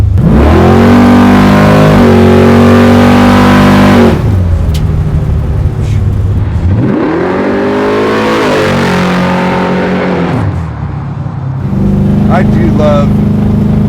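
A 700hp naturally aspirated big block Camaro revs hard through the gears, its loud rising and falling engine roar broken by shift pauses, with voices speaking faintly beneath it.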